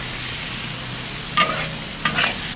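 Sour long beans are stir-fried with chilli and ginger in a hot oiled wok, a loud continuous sizzle broken by a couple of scraping stirs of the spatula, with no talking.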